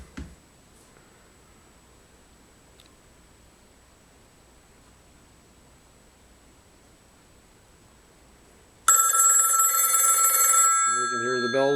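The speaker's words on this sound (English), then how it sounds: "I'll just call it here so you guys can hear it ring." A 1970s Model 500 wall-mount rotary telephone sits in near silence, then its bells break into loud, continuous metallic ringing for the last few seconds.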